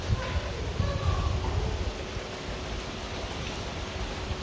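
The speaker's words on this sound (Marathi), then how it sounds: "पाऊस काही थांबायचं नाव घेईना," Steady rain falls outside a building during a downpour, a constant soft hiss of drops with a few low rumbling thumps near the start.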